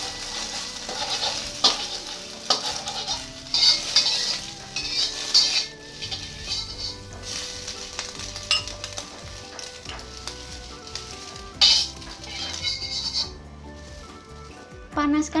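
Tofu frying in hot oil in a home kitchen, a steady sizzle with scraping and stirring of utensils against the pan, plus clinks of cutlery and dishes, close and moderately loud throughout.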